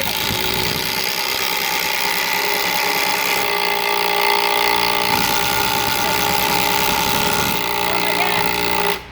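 Milwaukee M12 Fuel and Makita drivers run side by side driving screws, a loud, continuous whir and rattling hammer of the motors sustained nearly nine seconds before cutting off abruptly at the end.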